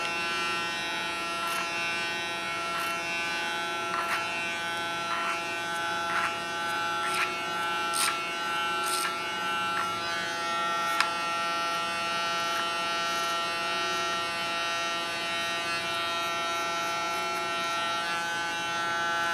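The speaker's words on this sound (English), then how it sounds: "With my clipper in a combing position, I soften the line to connect it to the hair above." An electric hair clipper cuts short hair for a pixie style, giving a steady close buzz that hums on for the whole stretch, with small snips and brushing clicks scattered over it.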